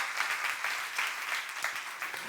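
A church congregation claps together in a steady burst of applause, dense and sustained, with the room's reverberation and no voices on top.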